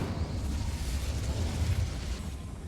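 An Incendio fire spell cast in the video game Hogwarts Legacy, a steady loud whooshing roar of flame lasting the whole moment, with no voices over it.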